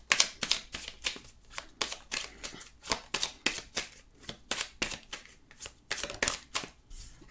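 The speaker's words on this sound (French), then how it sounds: "on va prendre l'oracle de Béline" Oracle cards being shuffled by hand, a steady run of crisp riffling bursts close up, with no talking.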